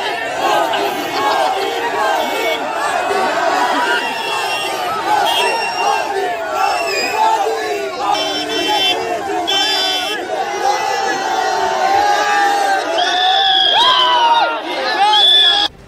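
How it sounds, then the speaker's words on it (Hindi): A large crowd at an outdoor Bihar political event, with a deputy chief minister present, chants a 'Modi Modi' slogan. The sound is a loud, dense wall of overlapping voices with shouted calls and cheers throughout. "तभी डिप्टी सीएम तेजस्वी यादव के सामने ही भीड़ ने मोदी मोदी का नारा लगाना शुरू कर दिया"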